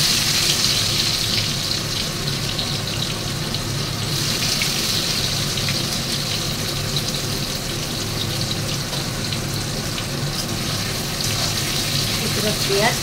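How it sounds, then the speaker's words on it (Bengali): Onions frying in a pan for chicken biryani, a steady loud crackling sizzle that runs unbroken at close range. "এবার এর মধ্যে আমি পেঁয়াজটা ভেজে নেব।"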